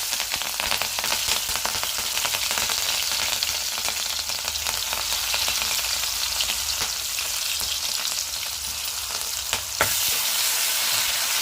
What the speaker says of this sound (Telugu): అదే ఆయిల్లో అయితే ఉల్లిపాయ, పచ్చిమిర్చి కూడా వేసుకొని తాలింపు వేసేసుకున్నాము.